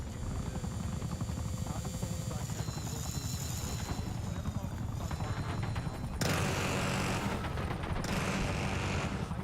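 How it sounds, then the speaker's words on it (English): An enemy Watchdog helicopter hovers overhead in the video game Black Ops 6, a continuous dense rotor thrum mixed with gunfire and game sounds, with a voice heard in the mix. "Enemy watchdog helo overhead."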